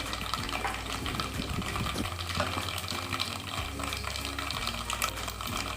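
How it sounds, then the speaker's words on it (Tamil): Mustard seeds spluttering and popping in hot sesame oil in a pan while making mango pickle, a dense continuous crackle with scattered sharper pops, close and steady throughout. "நல்லெண்ணெய் சேர்த்து எண்ணெய் சூடானதும் கடுகு சேர்த்து இப்படி நல்லா பொரியணும்"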